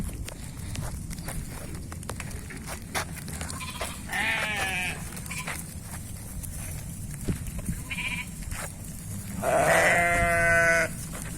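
Boer crossbreed nanny goats bleating on a farm, several harmonic calls around four and again louder near ten seconds, over steady ambient noise and some footsteps or shuffling.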